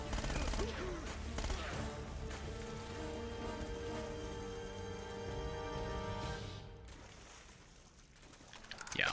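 Gunfire from an enemy's shotgun in Uncharted: Drake's Fortune, loud booming blasts mixed into dense game battle noise with rain-like hiss, steady for several seconds before easing, then flaring again at the end.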